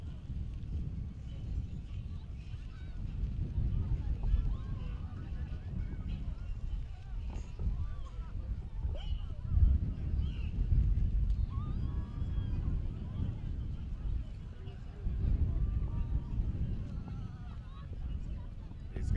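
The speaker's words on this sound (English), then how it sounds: "The wind is really strong." Strong wind gusts at a kite flying competition buffet the microphone with a steady low roar that swells and eases in waves, under crowd noise and scattered voices.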